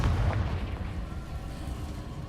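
A Confringo explosion spell goes off in the Hogwarts Legacy video game as a fairly faint, low rumbling boom that swells at once and then slowly fades over a couple of seconds.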